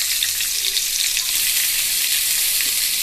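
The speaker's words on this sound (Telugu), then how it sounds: "నేను ఆనియన్స్ వేసేసుకోవాలి" Chopped onions frying in a little oil for an egg masala curry, a steady, close, bright sizzle with faint crackles and no talking, even in level throughout.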